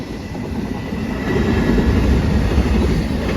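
A long freight train in Japan rolls past at midnight, a loud, close, continuous rumble with steady rattling and clatter from the cars that holds throughout and swells slightly midway.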